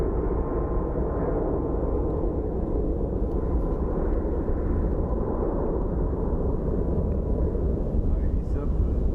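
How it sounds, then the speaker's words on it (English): A Boeing 737 MAX 8 airliner taking off at Phoenix Sky Harbor gives a continuous deep, rumbling roar, steady and heavy in the low range, with wind buffeting the microphone. "it's a 737 MAX 8 taking off to Los Angeles"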